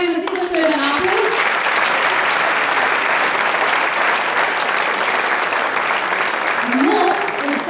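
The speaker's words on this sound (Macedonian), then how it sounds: "Да ги поздравим на сите со еден аплауз." Sustained audience applause at a folk dance ensemble's 45th anniversary jubilee concert in Veles, loud and continuous dense clapping throughout, with a presenter's voice briefly heard at the start and end.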